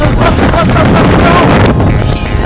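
Strong wind in the Ardèche roars and buffets the microphone continuously, a loud, rushing gust with no letup.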